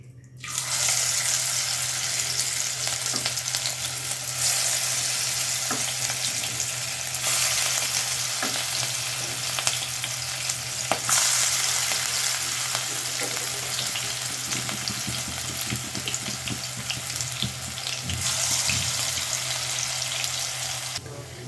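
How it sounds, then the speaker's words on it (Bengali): Cabbage pakoras frying in hot oil, a loud continuous sizzle and crackle close by with occasional scraping stirs, steady throughout. "তেলটা গরম হয়ে এসেছে, এখন আমি এক এক করে সবগুলো পাকোড়া দিয়ে দিব।"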